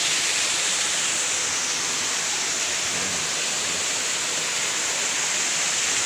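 Ambon Falls in Lobo, Batangas pours with a steady, dense broadband rush of falling water, loud and continuous throughout with no voices.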